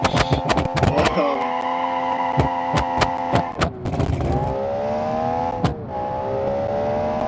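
A small race car engine in a racing video game revs and whines through gear changes, with sharp clicks and clatters cutting in and a sustained droning tone between them.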